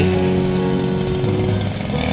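A steady, loud motorized whine of a grass trimmer cutting grass along a rice paddy bank in the hills, with a dense buzzing hum close by and no talking.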